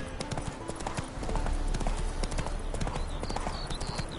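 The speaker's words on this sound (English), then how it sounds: "Spooking my horse." Rhythmic hoofbeats clip-clop steadily at close range, a horse trotting along in the video game The Witcher 3: Hearts of Stone, with a low ambient hum beneath and no voices.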